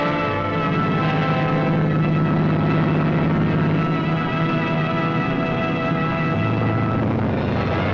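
Drone of a WWII transport aircraft's engines as a Canadian parachute regiment flies into the assault, a steady, loud, continuous hum with a strong low tone and no talking.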